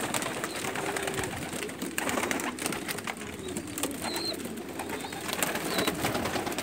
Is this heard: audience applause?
no